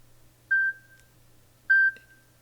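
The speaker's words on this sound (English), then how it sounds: "I have it set to beep every quarter hour." A cell phone alarm clock set to beep every quarter hour gives two short, soft tonal beeps about a second apart against quiet background hum.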